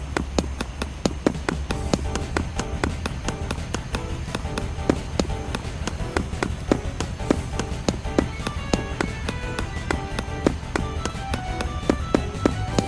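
Footsteps walk through an audio video game in a steady, even rhythm of sharp taps over a continuous background bed, with no voices.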